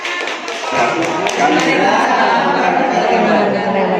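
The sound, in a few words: audience clapping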